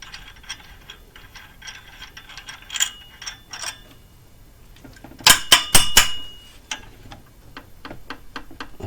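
Camshaft locking tool being worked loose from a BMW 323i engine during timing work: a run of close metallic clicks and ratchet-like ticks, then a sharp burst of louder clanks partway through, with no talk.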